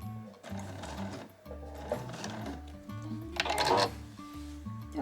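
Domestic sewing machine stitching back and forth over fabric for a granny bag, a steady fast mechanical whir and needle clatter running throughout, fairly close and alone.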